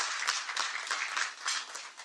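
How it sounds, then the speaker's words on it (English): Steady applause from an audience honoring founder stand-ins at a fraternity keynote event, a dense wash of many hands clapping continuously, moderately loud and without voices over it. "Let's give them a round of applause"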